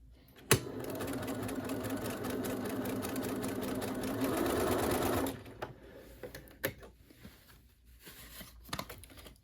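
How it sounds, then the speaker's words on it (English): A sewing machine runs in one continuous, close burst of rapid stitching about five seconds long as it tacks the pleats of a fabric medical mask, followed by quieter handling clicks and rustles. "So this is just to tack those pleats in place."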